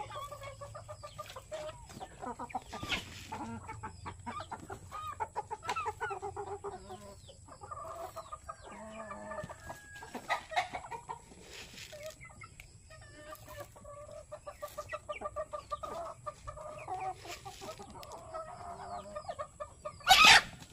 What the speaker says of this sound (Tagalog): nagbabantay ako ng manok na tumutuka